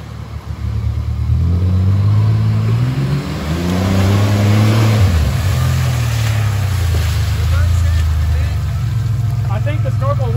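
A loud Ford Ranger pickup engine fitted with a PVC snorkel revs and drops repeatedly while driving through water, churning with a watery wash, while people talk and shout over it.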